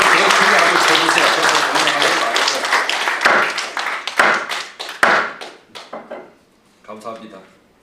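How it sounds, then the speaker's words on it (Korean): Applause from the assembly at a retired generals' association general meeting, a dense burst of clapping that thins into scattered individual claps and fades, with a brief murmur of voices near the end. "박수를 더 크게 한번 쳐주세요."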